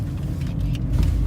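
Car engine droning low and steady while driving, the hum holding even with a slight rise near the end as the car pulls over, with no talk over it.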